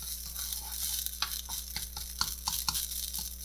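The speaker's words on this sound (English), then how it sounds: "Try to keep the rice inside the pan." Crab fried rice stirred and tossed in a hot oiled pan with herbs, a steady sizzle under repeated scraping strokes of the utensil, close and fairly loud, no talking.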